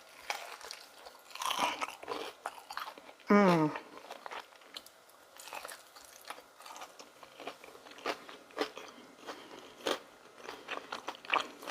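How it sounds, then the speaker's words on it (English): Loud, close crunching and chewing of crispy fried chicken, repeated bites with brief pauses, one sudden scraping sweep partway through. "things are about to get crunchy, ASMR crunch eating sounds"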